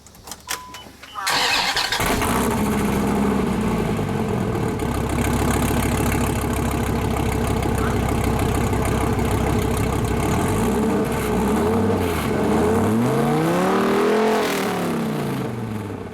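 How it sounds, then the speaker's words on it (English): A car fitted with an aftermarket exhaust cranks and fires after a brief start, then idles with a steady loud rumble and is blipped through several rising and falling revs near the end, close and uninterrupted by talk. "Okay, we're going to get a little bit of the sound of this car."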